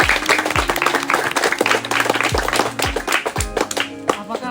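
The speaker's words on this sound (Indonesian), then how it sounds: "tepuk tangan untuk teman kita semua" A class of students gives a burst of applause to a presenting group after a talk on growing orchids, dense clapping that runs under music with a recurring low tone.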